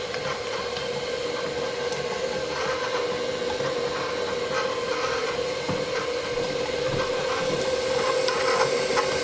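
Electric stand mixer creaming butter on its low stir setting for a Caribbean black fruit cake, a steady continuous whirring drone with faint rattling, running alone throughout at moderate level.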